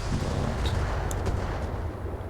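Incendiary weapon fire in the Battletech video game, a dense continuous roar of bursting rounds with a low rumble and a few sharp crackles, steady and loud throughout with no talking.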